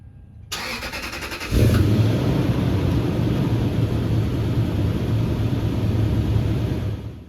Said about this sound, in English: Now we can go ahead and start the car up.